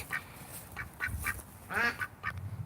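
A daily egg-laying duck quacks in a series of short, nasal calls, several scattered bursts with one longer, stronger quack near the end, heard close against faint low background rumble.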